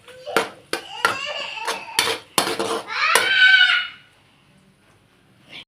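A utensil repeatedly clanging against a pan while mixing homemade spicy egg fried rice, sharp close metallic hits in a rhythm, then a longer scrape before it falls quiet.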